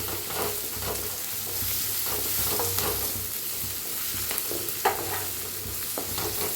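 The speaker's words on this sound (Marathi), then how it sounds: "हळदीला मिक्स करूया।" Turmeric being stirred into fried onion in a pan for a radish dish, a constant sizzle with intermittent scraping and tapping of a spoon, close and steady, with no talk.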